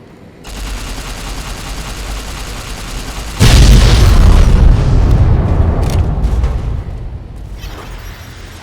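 A laser detonator blast in Fallout: New Vegas: a loud, deep explosion hits suddenly after a steady low rumble, then its roar slowly fades and tails off into quieter debris and ambience.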